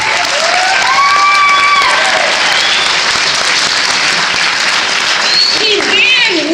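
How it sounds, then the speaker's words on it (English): An audience at a Black History Month talk bursts into sustained, loud applause, clapping filling the room with voices mixed in throughout. "yes, that's worth an applause."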